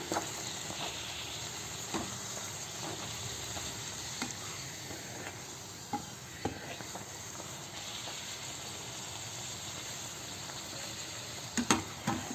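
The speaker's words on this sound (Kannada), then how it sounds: "ಸ್ವಲ್ಪ ಹೈ ಫ್ಲೇಮಲ್ಲಿ ಇಟ್ಕೊಳ್ಳಿ ಪೂರಿ ಹಾಕಬೇಕಾದ್ರೆ" Pooris fry in hot oil over a high flame, a soft, continuous sizzle and hiss with occasional small clicks and pops from the pan, fairly quiet throughout.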